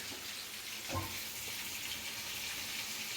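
Chicken frying in a pan gives off a steady, even sizzle with one brief thump near the start, and the hiss carries on alone without any voices.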